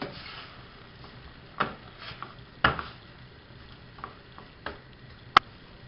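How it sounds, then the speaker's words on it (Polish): A spoon stirring sausage, chili, and sweet paprika into mushroom sauce for ribbon pasta, sparse faint clicks and knocks against the pan over a low, quiet background. "Wszystko wymieszam."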